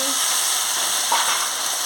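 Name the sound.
vegetables added to hot oil, frying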